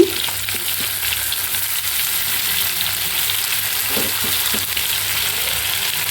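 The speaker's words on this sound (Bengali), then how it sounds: "এখন মুরগি ভাজা বসিয়ে দিচ্ছি" Marinated chicken fries in oil in a home kitchen for a Friday meal. A close, steady, loud sizzle continues throughout, with occasional light stirring sounds and no talk.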